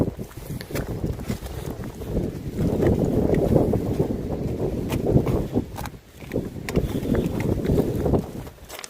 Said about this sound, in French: Avec le bruit des vagues.